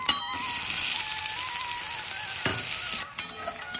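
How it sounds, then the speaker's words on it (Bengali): Chopped onion hitting hot oil with cumin, in oil just used to fry crab for a spicy crab kosha, gives a loud, steady frying sizzle with occasional stirring scrapes, easing off toward the end. "এবার পেঁয়াজ কুচি দিয়ে দেবো।"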